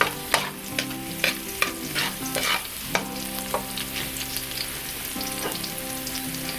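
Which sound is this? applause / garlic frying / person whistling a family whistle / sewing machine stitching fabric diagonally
garlic frying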